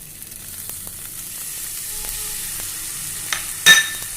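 Cluster beans frying in a pan with an onion, garlic and Byadgi chili masala give a steady close sizzle, broken by a few light stirring taps and a sharper clatter near the end, with no talking.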